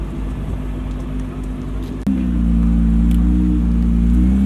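A Nissan GTR idles with a loud, deep rumble at a construction site, then the engine note steps up abruptly into a heavier, steady drone that holds close and strong.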